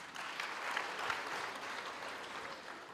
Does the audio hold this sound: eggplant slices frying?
no